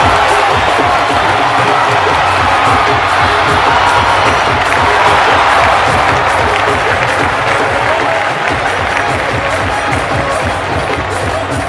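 A crowd at a live Punjabi charity show in India claps and cheers steadily, a dense sustained roar of applause with scattered whoops, loud and continuous throughout.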